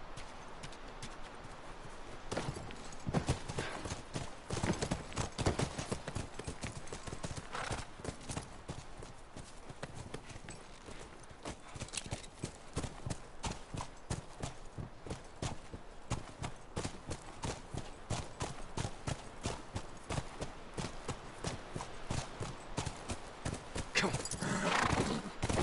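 Horses in the video game The Last of Us clip-clop steadily at a trot throughout, hooves close and rhythmic, with an occasional neigh rising over the hoofbeats.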